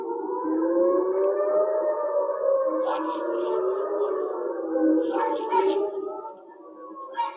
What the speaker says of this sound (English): You're gonna hear the sirens in a second.